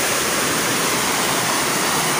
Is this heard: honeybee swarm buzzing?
no